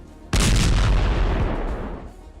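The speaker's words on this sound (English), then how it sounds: "The distance is closing, and they strike, causing an explosion." An FPV drone strikes a vehicle in a frontline convoy, setting off a sudden loud, close explosion that booms hard and then rumbles and fades slowly over the next two seconds.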